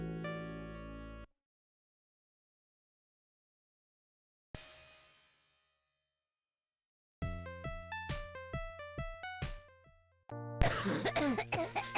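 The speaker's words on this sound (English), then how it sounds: "You hear a cough." A cough from the Companions of Xanth text adventure game, alone against a silent background, surrounded by electronic chimes and jingles from the game.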